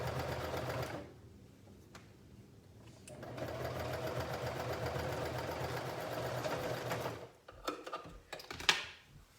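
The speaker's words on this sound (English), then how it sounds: "We just want to top stitch it." A sewing machine top stitching the pocket of a pair of shorts, running in two steady whirring bursts with a pause between, followed by a few clicks and handling noises near the end.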